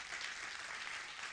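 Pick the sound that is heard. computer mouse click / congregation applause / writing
congregation applause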